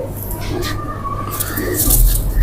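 A golden pet pigeon coos nearby, soft throaty rolling calls with a low hum and some handling noise in the background.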